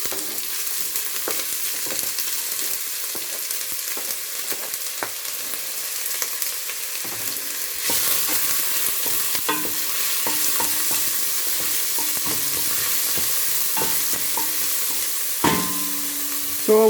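Onion sizzles steadily in two spoonfuls of hot oil in a pan, a close, continuous frying hiss broken by occasional stirring scrapes and clicks, with no voices.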